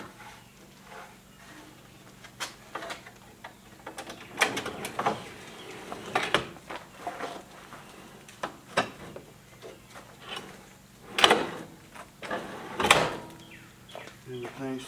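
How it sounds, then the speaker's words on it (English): A kitchen slide-out in a camper van is pushed back in, giving scattered clunks, rattles and sliding knocks of varying loudness over a quiet hum, with no one speaking. "Everything still slides in."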